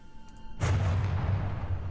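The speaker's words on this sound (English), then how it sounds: "That's an explosion." An explosion in the From the Depths naval combat game, a sudden loud blast that opens into a sustained low roaring rumble that carries on to the end.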